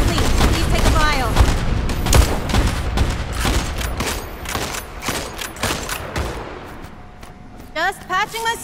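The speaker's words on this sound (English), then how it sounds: "Is that gunfire MP?" Rapid automatic gunfire and heavy shots rattle in bursts through a zombie shooter video game, loud and close, tapering off toward the end as voices speak briefly over the fighting.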